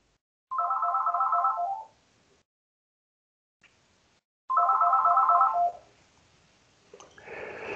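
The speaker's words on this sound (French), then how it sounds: "on va être interrompu un petit peu par le téléphone" A telephone rings indoors in two bursts of bright electronic trilling, each about a second long, separated by a few seconds of quiet, clear and close with no one talking over them.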